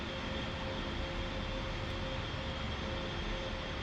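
A-10 Warthog engine in a flight simulator game, a steady, loud, unbroken jet roar with a high whine, unchanging and with no voices over it.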